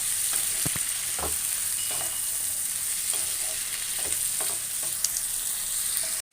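Tomato kurma frying in a pan with steady close sizzling, while a spoon stirs and scrapes through it in several distinct strokes.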